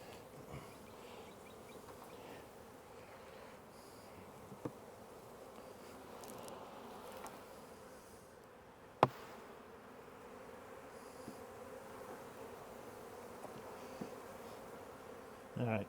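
Honeybees buzzing around an open hive, a soft continuous hum of many insects with a few faint clicks and knocks, fairly quiet and without talk.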